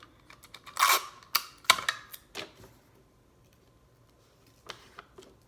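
Tape pulled and pressed onto paper at the top of a sheet for a DIY Christmas gift: a cluster of sharp tearing and tapping crackles, then quiet with a couple of faint taps near the end.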